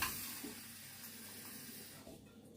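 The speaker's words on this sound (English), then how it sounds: "And then I'm going to add a cup of water, a full cup of water." A full cup of water pours into a pan with lemon zest to make lemon syrup, giving a soft, steady splashing hiss that fades and thins toward the end, heard alone.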